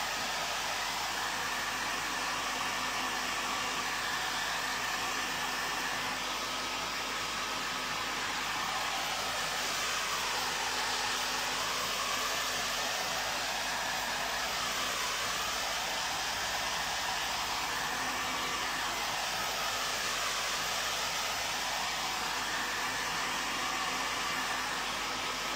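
A hair dryer runs continuously, drying acrylic paint on a shabby chic candle holder, a loud, steady whooshing drone that shifts slightly as it is moved.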